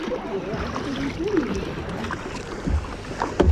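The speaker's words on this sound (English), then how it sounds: "Keep paddling from the left." Tandem kayak paddled on water off Mystic, Connecticut, with soft splashes and paddle strokes close by, under wind and people talking.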